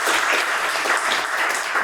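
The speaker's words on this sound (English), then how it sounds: "Please give a round of applause" An audience at a dialogue event on food justice applauds a welcomed speaker, a steady, close wash of many hands clapping with no pause across the short stretch.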